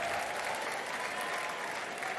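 A small crowd of baseball fans at the Durham Bulls Athletic Park claps steadily through a playoff finals night game, a dense, sustained wash of applause heard alone.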